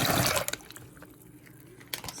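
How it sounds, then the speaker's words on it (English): Water poured from a container onto medium dried beans in a bowl for overnight soaking, a loud splashing gush at first that fades into quieter trickles and drips, with a brief final splash. "I have some medium beans here, which I'm gonna soak them in water overnight."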